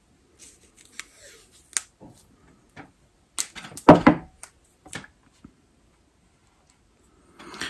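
Tape is torn and wrapped around the wiring of a Humminbird fish finder being installed on a kayak, heard as scattered close clicks and snips with one louder rasping tear burst midway, no talking.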